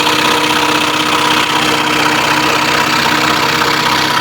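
Scroll saw cutting steadily into a wooden workpiece with its dust blower running, a loud continuous buzzing motor drone with a fine rhythmic chatter throughout, no speech.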